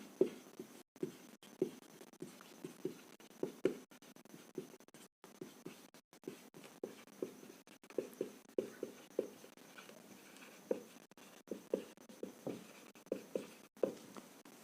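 Chalk or marker strokes on a board during a maths lesson, a quiet irregular run of short scratches and taps repeating across the whole stretch with brief pauses.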